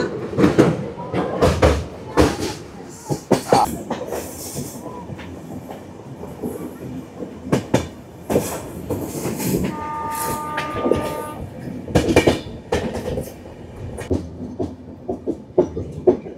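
A passenger train running on the Visakhapatnam to Araku line, heard from on board: a loud continuous rumble with clattering wheel and carriage noise, a brief horn-like tone partway through, and occasional voices in the background.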